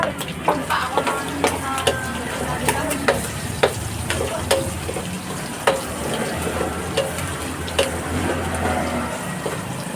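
Garlic frying in a pan for a vegetable sapsuey stir-fry, a constant crackling sizzle punctuated by repeated scrapes and clinks of a spatula stirring, close and fairly loud with no talking.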